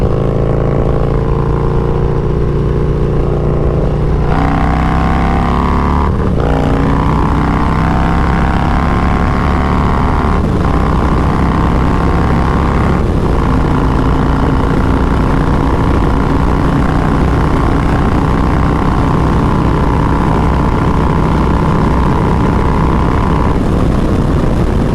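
A car fitted with a Wood 22XE camshaft cruises in third gear on the interstate, its engine holding a loud, steady drone with brief shifts in pitch, with no talk over it.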